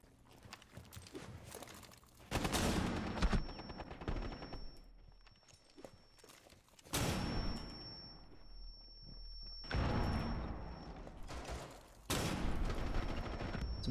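Gunshots in Rainbow Six Siege come in several short, sharp bursts a few seconds apart, fairly close and loud, with a steady high ringing tone running between them.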